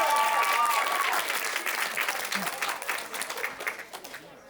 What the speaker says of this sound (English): should we give a big round of applause to Ben's parents, Bill and Mary